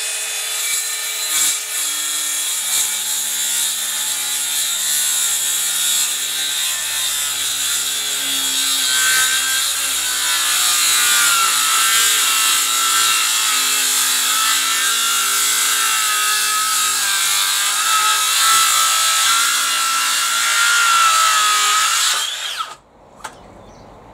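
A power saw runs along a straight edge through wood while building a laminated outdoor table, giving a long, loud, steady cutting roar that lasts over twenty seconds before it winds down and stops.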